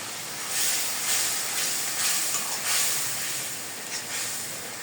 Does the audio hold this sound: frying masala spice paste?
yes